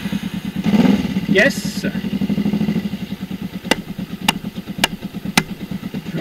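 A motorcycle engine cranks and fires up after a new battery is fitted, then settles into a steady, throbbing idle close by, with a few sharp clicks over it and a voice calling out briefly.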